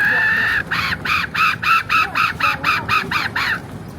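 A decoy rooster crows nearby in a loud, pulsing run of about a dozen short, bright calls. Light background noise sits underneath.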